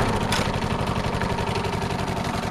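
Old engine idling low and steady after long disuse, a continuous rhythmic mechanical chug with faint knocking pulses, fairly quiet and with no talking.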